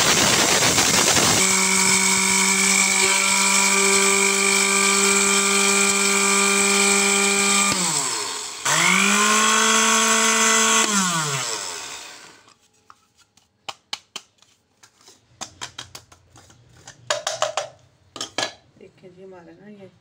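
A kitchen mixer grinder pulverising dry tikka masala spices whines loudly and steadily, briefly dips and surges again, then winds down and stops, leaving scattered clinks and rattles of the jar being handled.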